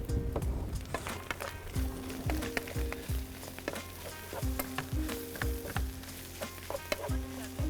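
Black pepper frying in a hot pan gives a steady close sizzle, with frequent stirring scrapes and clinks and no talk.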